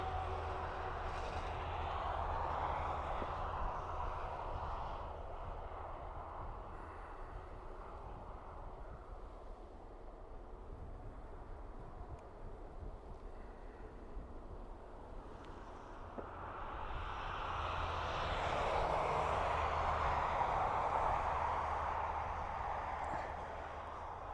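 An EasyJet jet airliner at Dublin Airport, its engines roaring steadily in the distance and swelling louder near the end as it passes closer.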